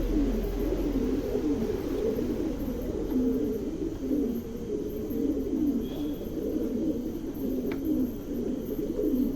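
Pigeons coo in a steady, low, rolling murmur, several birds close together, with a faint higher chirp or two over a constant background hum.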